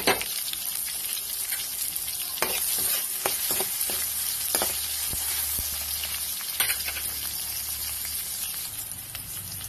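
Garlic frying in a pan for chicken with vegetables, a close steady sizzle with hissing steam, broken by several sharp scraping strokes as it is stirred.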